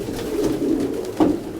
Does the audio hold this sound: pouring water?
no